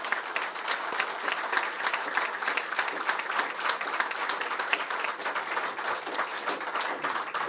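An award ceremony audience applauds for Lieutenant Colonel Walter Purcell, a steady, moderately distant roar of many hands clapping that holds evenly for several seconds.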